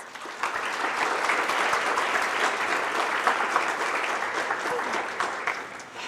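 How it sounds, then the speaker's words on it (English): An audience at a Spring 2021 senior recognition ceremony applauds the honors students, with steady, moderately loud clapping that lasts about six seconds without a break. "Please join me in applauding all of our outstanding honors students."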